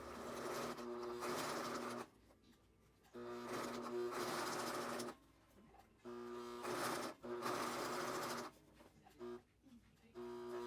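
A sewing machine stitches the curved seam of a fabric face mask in several bursts of steady whirring, close and moderately loud, separated by short pauses.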